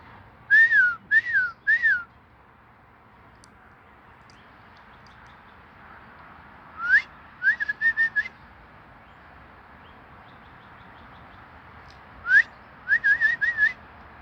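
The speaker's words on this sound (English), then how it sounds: "But now it's a whole lot of different birds whistling." Clear, high bird whistles come in three separate bursts, each a quick run of rising notes, with quiet pauses in between.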